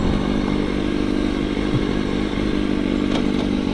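A Kawasaki 636 sport motorcycle engine drones loudly and steadily throughout while riding, a dense continuous roar with faint shifting clicks and no clear talk.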